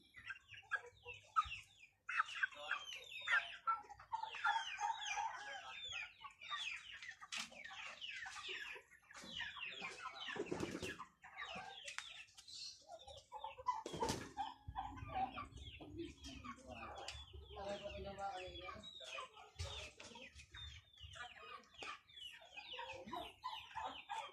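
Free range chickens cluck and chatter in a busy, close flock, with someone speaking intermittently among them.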